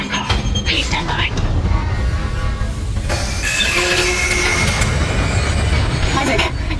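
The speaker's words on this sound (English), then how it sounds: "Retracing damaged tram car." A damaged tram car rolling along its track in the video game Dead Space: a loud, continuous rumbling drone with metallic squeals and clanks rising midway, plus a brief burst of voice near the start.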